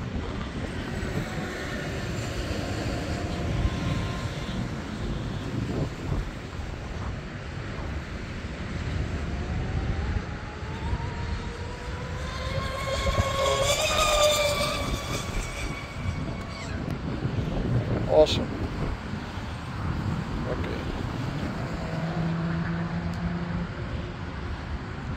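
A homemade twin mono-hull radio-controlled boat runs on open water against the wind, its motor droning steadily throughout with a rising whine as the throttle climbs, heard from a moderate distance under wind noise.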